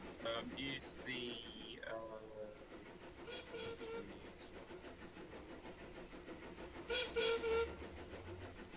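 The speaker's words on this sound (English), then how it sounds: "Calgary has an unusual whistle." A locomotive engine called Calgary on a model railway sounds its unusual whistle in short tonal bursts near the start and again later, over rolling train noise with people talking nearby.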